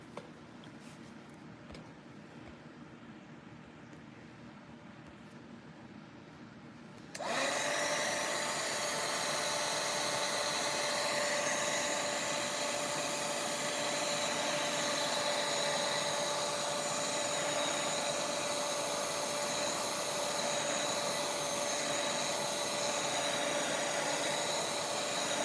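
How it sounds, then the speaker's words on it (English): A heat tool switches on partway through and blows steadily, drying heavy ink on a papercraft card; a loud, constant whirring hiss with a faint whine that keeps running to the end after a quieter stretch of room noise. "Let's do a little bit of some drying in between here."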